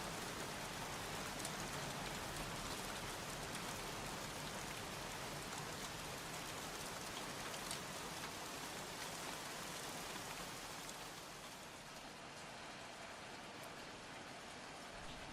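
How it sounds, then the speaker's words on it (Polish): Steady rain falling in the video game Heavy Rain, a dense, even hiss of drops on surfaces that holds for the whole stretch, close and enveloping, easing slightly toward the end. "No, tak trochę pada, stary, wiesz?"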